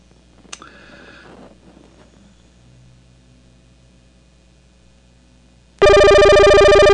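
A telephone on a live call-in show starts ringing loudly and suddenly with a steady electronic trill, after a stretch of faint room noise and a brief murmur.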